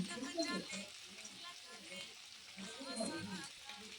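Tomato and ginger paste being stirred in a hot pan, a soft sizzle with scraping strokes of a spoon under a voice speaking in Bengali.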